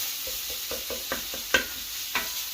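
Ground meat for a cowboy chili sizzles in a frying pan while a spatula chops and stirs it, giving about eight soft, regular scraping taps over a constant frying hiss. No one talks.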